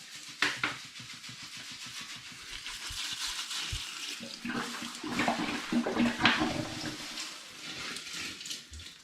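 Ten litres of spring water pours into a hot pan for home-brewed Vimto and hops cider, a steady close gush of running water with irregular splashing, no voices.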